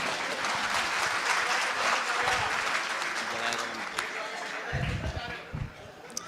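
An audience at a Hindi comic poetry show bursts into sustained clapping, a dense steady wash of applause lasting several seconds that thins toward the end, with a performer's voice speaking over it.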